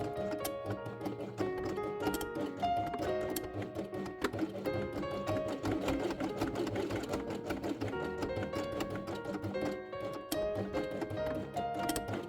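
Sewing machine stitching felt pieces, a continuous fast mechanical rattle going on without a break, with music playing over it.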